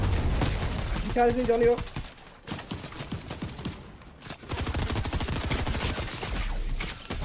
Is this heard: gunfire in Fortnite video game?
yes